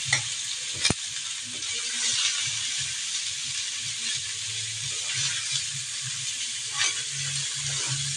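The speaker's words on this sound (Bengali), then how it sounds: "করলাটা আমি এভাবে আজকে ভাজি করেছি" Shredded bitter gourd fries in a pan with a steady, close sizzle and crackle, and occasional stirring scrapes and clicks throughout, with no talking.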